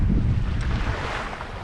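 Light wind blowing at sea aboard a sailboat crossing from Bermuda to the Azores, a steady low rushing noise with a soft watery wash, no voices.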